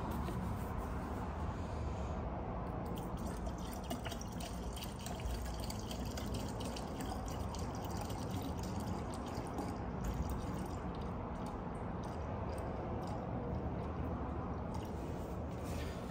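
Coolant pours steadily into the cooling system of a 2015 Mercedes GLK 250 diesel, a continuous liquid gurgle and splash that runs unbroken and fairly close for the whole stretch, with no talking.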